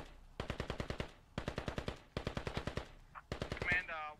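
Rapid automatic gunfire in the military shooter game Squad, several long bursts of close, loud shots with short gaps between them, ending in a louder burst with a whining tail.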